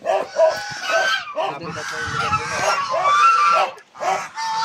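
A rooster crows loudly nearby amid clucking chickens, with several calls overlapping and a person talking briefly in the background.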